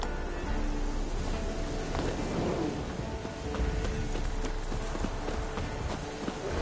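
Roach the horse gallops in The Witcher 3, steady rapid hoofbeats carrying throughout over a busy outdoor backdrop.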